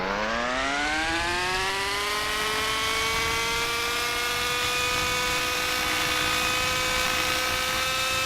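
Simulated 3D RC helicopter in a flight simulator, a steady whining rotor and motor drone that rises in pitch at the start and then holds loud and constant alone.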